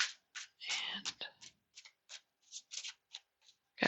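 Soft, rapid riffling and slapping of tarot cards being shuffled close up, in uneven bursts, with faint whispery noise in between.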